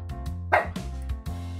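A dog barks in a short sound effect triggered as a livestream chat command during a Suika Game stream, with a couple of quick bow-wow barks rising over a steady musical background.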